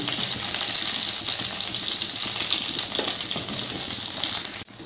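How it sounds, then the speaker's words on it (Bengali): Cut eggplant pieces frying in hot mustard oil give a loud, steady, close sizzle that carries on without pause before cutting off abruptly at the end. "এবার ওই তেলের মধ্যে দিয়ে দিলাম টুকরো করে কেটে রাখা বেগুন।"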